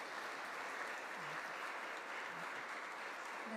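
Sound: audience applauding the church musicians

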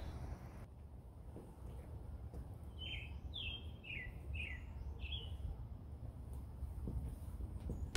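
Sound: birds chirping in the morning

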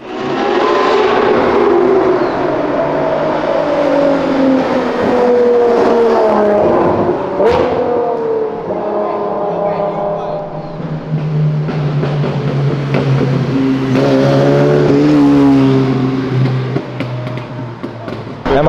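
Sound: Ferrari engine roaring while downshifting

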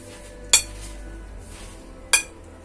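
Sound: ball of cooked jaggery dropped onto a plate, clinking

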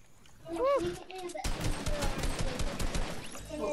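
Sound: gunfire from a sniper and SMG in the video game Fortnite

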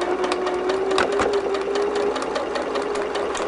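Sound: sewing machine stitching through layers of quilt block pieces

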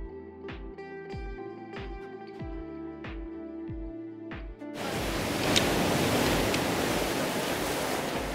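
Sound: sea waves splashing

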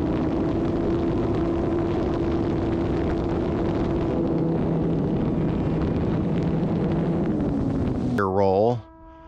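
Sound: RC trainer airplane motor at full throttle during maneuvers

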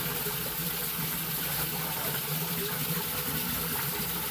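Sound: water tap running for hand-washing clothes

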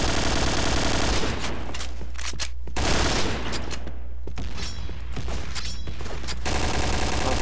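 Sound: gunfire in Point Blank video game

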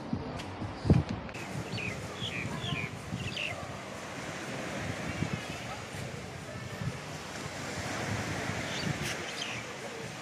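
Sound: waves on the beach at Lamai, Koh Samui

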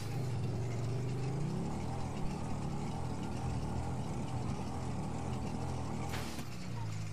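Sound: motorcycle engine in the video game GTA 5 Online

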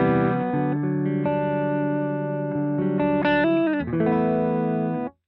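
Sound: electric guitar through amp and cab simulation

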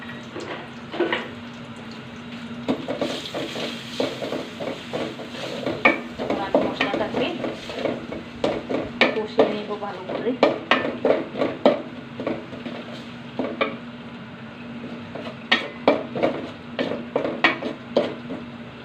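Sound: ginger garlic paste and spices added to a pan and stirred

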